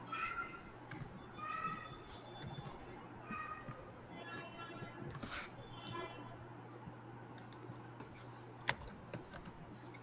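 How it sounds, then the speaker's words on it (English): Typing on a computer keyboard during an Azure Active Directory setup, with soft, rapid key clicks running throughout under a steady low hum and one sharper tap near the end; a cat meows faintly in places. "Let's type that in."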